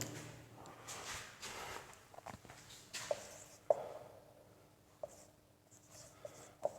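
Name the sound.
writing on a board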